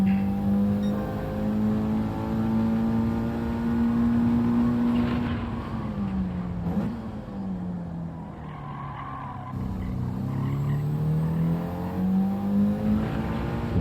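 A race car in Gran Turismo 7 driven through a hairpin, its engine holding a high steady whine, dropping in pitch with tire squeal as it slows for the turn, then climbing again as it accelerates out, loud and alone.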